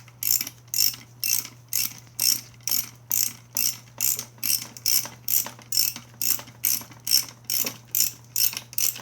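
A ratchet tightening a spring compressor on a Mazda Miata suspension strut, a steady run of about twenty evenly spaced rapid clicking strokes, close and loud, with no talking.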